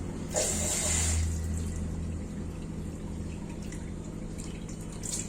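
Water from thawed frozen artemia splashes and trickles through a strainer, then settles into quiet dripping and faint watery sounds, close by with a low steady hum underneath.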